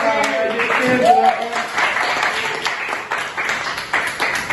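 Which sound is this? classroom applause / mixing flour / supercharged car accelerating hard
classroom applause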